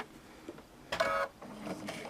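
Sewing machine stitching appliqué: a brief burst of fast mechanical whirring from the motor and needle, with faint quieter stitching runs around it, close and without talk.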